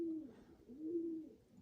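A Turkish Takla pigeon in a loft gives two soft, low coos, each a short rising and falling hum with a pause between them, faint and close.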